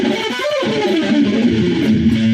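A harmonic minor scale played as a lesson demonstration, a run of sustained pitched notes stepping through the scale with a faint effects-processed tone, close and steady without talk.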